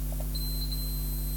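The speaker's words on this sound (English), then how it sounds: "buzzer on it, and when we touch these together it'll make a noise" A continuity tester's buzzer gives a thin, steady high-pitched tone while its probe touches a flyback transformer pin, lasting about a second over a constant low electrical hum.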